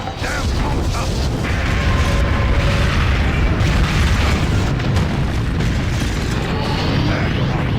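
Crystal cannon fire in Godzilla: Unleashed on the Wii booms loudly and steadily, with mechanical clanks and crackling bursts layered over a heavy, unbroken roar.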